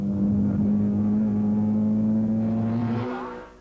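A racing car's engine drones steadily at Phoenix Park during a 1990 FF1600 and Dunlop Saloons meeting, holding a sustained note before fading as the car moves away.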